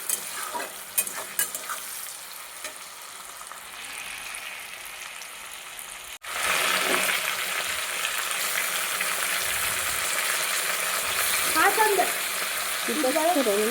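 Chicken frying with tomato, whole cumin, onion and whole garam masala in a home kitchen: a quiet stretch, then a sudden steady loud sizzle with stirring scrapes, close up, with brief faint voices in the background.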